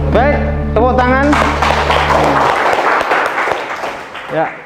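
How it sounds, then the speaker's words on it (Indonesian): Students in a high school class practicing Reyog Ponorogo dance clap and applaud, a dense patter of hands. It begins over a sustained tonal sound and voices and continues alone, fading toward the end. "tepuk tangan."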